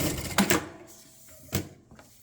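A Jack A5E-A industrial sewing machine is stepped through its stitches one at a time, giving a few short mechanical clunks separated by quiet pauses.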